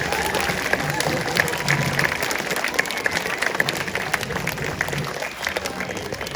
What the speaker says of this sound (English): let's have a round of applause for our keepers and their pinnipeds as they join us on stage